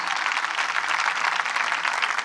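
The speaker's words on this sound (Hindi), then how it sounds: "एक दफा पास्टर शहजाद के लिए भी भरपूर तालियां, जोरदार तालियां" Congregation at a church gathering applauding for Pastor Shahzad, a dense, even roar of many hands clapping throughout, without voices.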